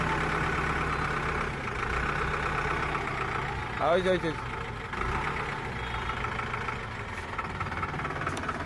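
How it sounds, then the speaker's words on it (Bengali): A Tata 709 truck with a 17-foot body runs at idle, a steady low diesel rumble with a brief louder knock of revs in the middle, heard from nearby under someone talking. "প্রথমে গাড়ির ইঞ্জিন সাউন্ডটা দেখেন"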